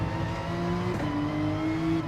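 A race car engine, with an Audi running close ahead on the main straight in a racing video game, holds a loud, steady high-pitched drone with a brief dip in pitch midway, alone without talk.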